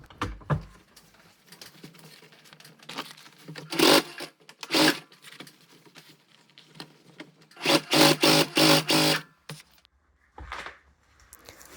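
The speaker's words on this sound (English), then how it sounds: "Then I attached the cord to the circle with my sewing machine" A sewing machine stitches cord onto a leather circle in short bursts, with a rapid mechanical stitching chatter separated by quiet pauses and light handling noises.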